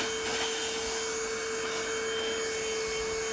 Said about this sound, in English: So I'm going to also use a little vacuum to